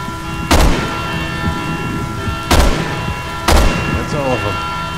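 Three loud gunshots from the video game Resident Evil 6 crack out at irregular intervals, each a sharp broadband blast with a short decaying tail over a steady game background.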